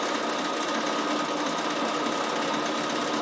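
A standard domestic sewing machine stitches a decorative pattern in a steady, fast mechanical whir with an even rhythm, close and continuous, with no voices.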